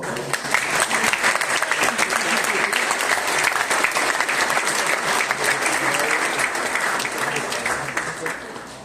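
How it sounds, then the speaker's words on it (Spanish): A lecture audience at an architecture conference claps steadily and loudly. The dense applause swells early, holds through the middle and thins slightly toward the end. "pido que den un aplauso, por favor"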